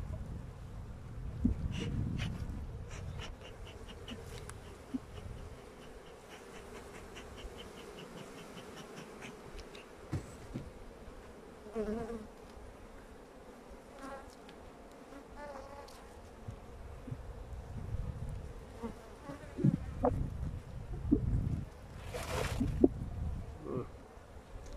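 Honey bees buzz around an opened three-storey beehive during a honey super check, a steady close drone with individual bees passing nearby.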